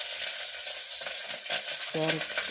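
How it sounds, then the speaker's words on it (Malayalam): Chopped onion and carrot sizzling in a hot pan for wheat upma, a bright steady hiss with a few soft stirring scrapes and a brief tonal sound near the end, close up. "അരിഞ്ഞ് വെച്ച ഉള്ളി ഇട്ടതിന് ശേഷം അതിലേക്ക് ഉള്ളിയും ക്യാരറ്റും കൂടെ ഇടാം"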